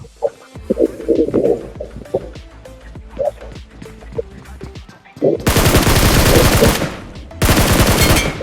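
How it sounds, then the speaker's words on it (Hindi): Rapid bursts of automatic gunfire in BGMI (PUBG Mobile) gameplay, opening with scattered sharp shots and then breaking into loud, dense sustained volleys with a short gap between them, close and dominant. "मैं इसको प्री फायर देके खत्म कर देता हूँ"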